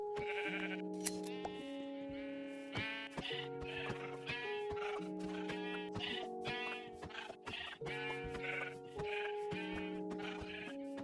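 Sheep in a video game bleat over and over, a dense chorus of wavering calls laid over steady background music, fairly quiet and with no talk.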